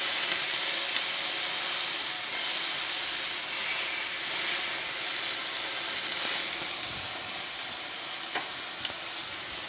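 Beef sizzles steadily in a hot pan for a Thai beef salad, a continuous near hiss and crackle of searing meat with no talk over it.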